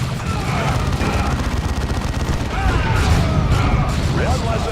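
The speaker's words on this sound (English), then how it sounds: "Gotta love those grenades, especially when they're energy based." Energy grenade blasts in the Dawn of War II: Chaos Rising strategy game, dense rumbling bursts and crackling gunfire mixed into a continuous loud battle din, with a voice speaking over it.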